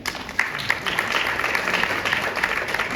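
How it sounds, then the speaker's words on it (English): An audience claps for a group of children, a steady patter of many hands lasting a few seconds without a break. "Let's all clap for them once."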